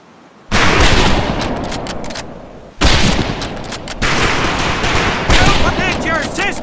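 Rifles fire on a training range in Medal of Honor: Pacific Assault: loud, booming volleys with sharp onsets, each followed by a long, rumbling decay, while many overlapping shots crackle throughout.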